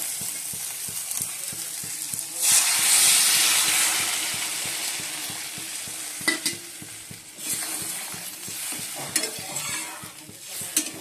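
Hot water poured into a pan of potatoes frying in spices, with a loud hiss and steam burst followed by steady sizzling and regular stirring scrapes at close range.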